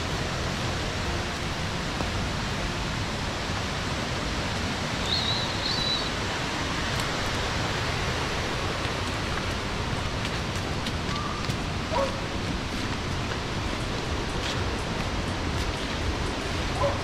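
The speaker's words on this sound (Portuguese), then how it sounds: "Agora a gente vai na parte de cima da cachoeira." A waterfall on a trail in Rio dos Cedros roars in a steady, broad rush of falling water, constant and fairly close, with no voices.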